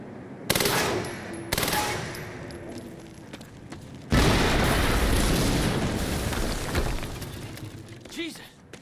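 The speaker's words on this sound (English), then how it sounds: "we just heard an explosion near the harvesting perimeter" Explosions and bursts of machine-gun fire from the Quantum Break video game ring out loud and close, with a sharp blast, a long heavy roar of gunfire and debris, and a final thud, while muffled game voices sit beneath.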